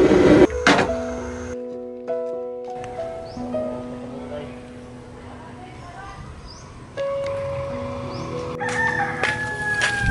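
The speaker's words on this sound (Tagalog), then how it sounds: "Ito yung daladala po namin yung manok." A rooster carried along on a trip crows in loud, drawn-out calls, close by, mixed with handling and rustling noises while people talk.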